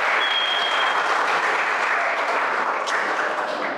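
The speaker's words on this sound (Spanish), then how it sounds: "Un aplauso a la persona del equipo técnico," Dense, steady applause from an audience at a film talk in Murcia, even and continuous throughout, with a brief thin whistle-like tone near the start and no speech.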